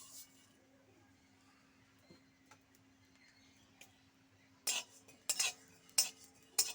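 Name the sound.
stirring cumin seeds roasting in a dry pan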